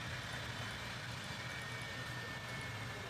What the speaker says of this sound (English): You're going to hear those engines begin to spool back.